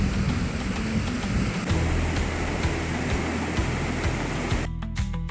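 The cold Enipeas River runs below Mount Olympus near Litochoro, Greece, with a loud, steady rushing roar of flowing water filling the whole stretch, cutting off abruptly near the end.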